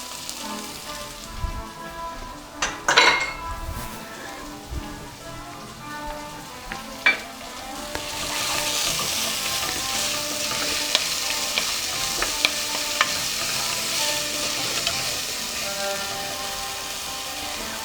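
Green onions frying in a hot pan, a few stirring clatters early, then a loud, continuous crackling sizzle that rises and stays dense to the end.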